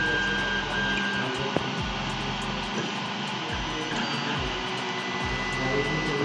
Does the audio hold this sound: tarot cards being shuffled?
no